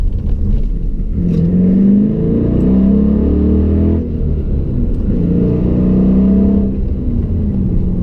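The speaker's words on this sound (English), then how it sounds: "There's a little exhaust note for you" A car engine with an aftermarket exhaust rumbles and revs steadily for several seconds, a low throaty exhaust drone rising and falling, close and loud with no talking.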